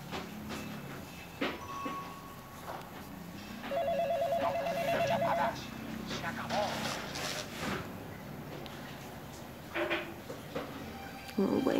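A telephone rings in short electronic warbling bursts indoors, fairly faint, while several people chat and react in Spanish around it.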